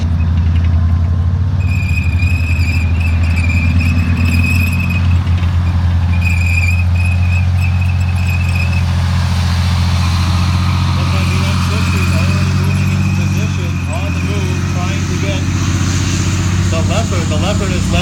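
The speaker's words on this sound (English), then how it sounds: "Those two engines, two very different engines, a very different sound, but very, very powerful engines to move that type of equipment." Two tank engines, a Leopard 1 and an M60 Patton, rumble loudly and steadily at a mock battle, with a deep constant drone and whining tones throughout; voices are faintly audible beneath.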